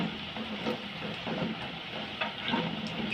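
Cauliflower (gobi) pieces fry to a crisp in hot oil, a steady close crackling sizzle with small pops and bursts throughout.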